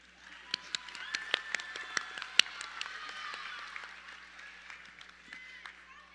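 A high school graduation crowd applauds in a large venue, scattered claps and a few sharp pops building into a sustained patter that gradually thins out.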